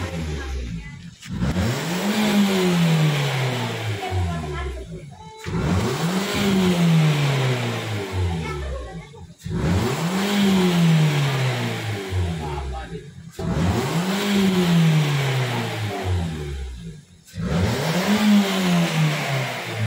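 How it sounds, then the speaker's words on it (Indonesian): A Nissan Grand Livina engine running on Blackcore oil is revved repeatedly, five rising-and-falling revs in steady succession, each climbing sharply then easing back to idle, close and loud with no talk. "Dilakukan pengegasan pada Grand Livina ini."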